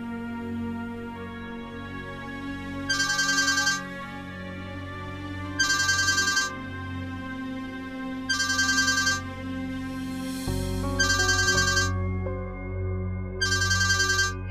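A telephone plays its ringtone in repeated bursts roughly every two and a half seconds, a loud electronic melody standing alone with no voices over it. It rings for a son-in-law's incoming call.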